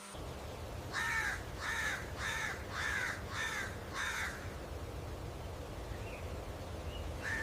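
A crow caws six times in a steady, evenly spaced series, loud and fairly close, over a low background rumble, followed by a few faint distant bird notes.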